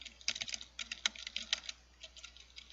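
Quick, light tapping on a computer keyboard, a close, quiet run of uneven clicks lasting a couple of seconds, with no talking over it.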